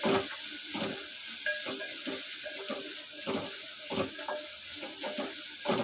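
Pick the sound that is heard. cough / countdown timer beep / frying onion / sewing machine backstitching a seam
frying onion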